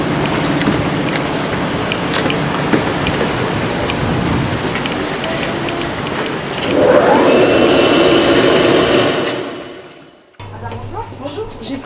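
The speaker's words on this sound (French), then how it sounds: "Veuillez vous diriger vers l'aspirateur numéro 2." A car wash vacuum cleaner at a service station runs with a steady loud roar and a brief rising whine, then drops off and restarts quieter.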